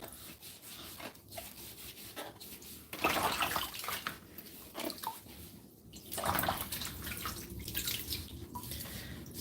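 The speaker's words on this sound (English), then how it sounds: "let's give this a good scrub" A sponge scrubbing under water in a sink, steady rubbing strokes with sloshing and splashing that grow livelier partway through, close and fairly quiet, no talk.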